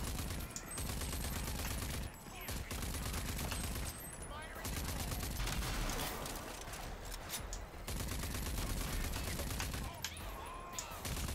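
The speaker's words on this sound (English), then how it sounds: "Time to get our rifle out." Rapid rifle fire in Rage 2 rattles in long, dense bursts broken by short pauses, loud and close, with someone speaking briefly between volleys.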